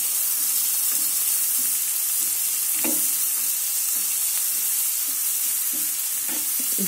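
Butter melts and fries in a pan for capsicum chatpat, a loud continuous sizzle with faint intermittent stirring scrapes beneath it and no speech.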